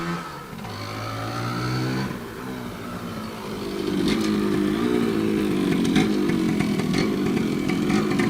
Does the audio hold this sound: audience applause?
no